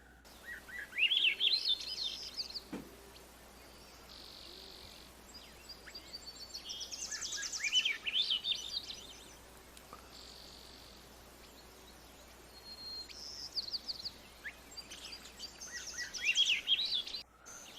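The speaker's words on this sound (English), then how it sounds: "So that's the Swainson's thrush." A Swainson's thrush sings three separate phrases, each rising upward in a spiralling run of fluty notes, fairly faint and distant with quiet pauses between them.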